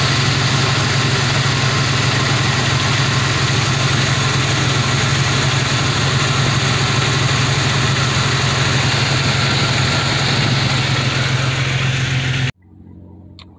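A car engine idles steadily after being test fired, a loud continuous running hum that holds for about twelve seconds before cutting off abruptly into near silence. The car has a failed, stuck-open fail-safe thermostat.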